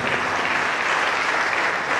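Audience applause at the Obolo Converge community gathering, a steady, dense wash of many hands clapping close by, continuous across the whole two seconds with no break and no talk.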